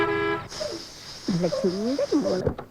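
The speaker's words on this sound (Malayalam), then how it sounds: "മോളൊന്ന് ഹോൺ അടിച്ചാ പോരായിരുന്നോ?" A car horn honks at a house gate in a short, steady tone at the start, then voices talk over quieter background sound.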